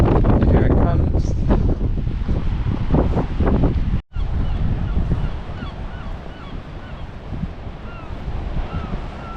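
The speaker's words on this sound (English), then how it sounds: "Just waiting for the wind to kick up again. Here it comes." Wind blows hard while walking in the dark along the Cornish coast between Wadebridge and Newquay, loud rumbling gusts buffeting the microphone that drop away briefly and then return, settling into a steadier rush.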